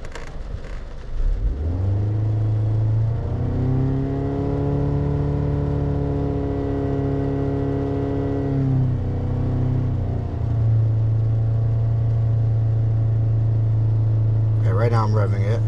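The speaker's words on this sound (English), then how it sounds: "Right now I'm revving it" Engine of a 2007 Toyota Camry with intermittent stalling and an aftermarket MAF sensor, revved from idle and held steady at elevated RPM for several seconds before dropping back, a close continuous drone with a voice briefly at the end.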